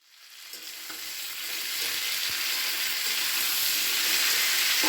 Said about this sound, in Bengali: নুনটা দিয়ে একটু নাড়াচাড়া করে নিচ্ছি